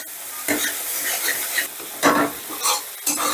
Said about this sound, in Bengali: এবারে এই মশলাটাকেও বেশ ভালো করে কষে নেব, যেন মশলাটার থেকে তেল ছেড়ে দেয়।